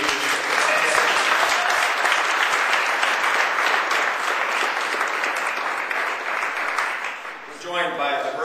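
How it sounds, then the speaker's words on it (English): Audience at a legislative press event applauds in a steady, dense burst of clapping lasting several seconds before fading out, with a voice resuming afterward. "Give them a round of applause for their leadership."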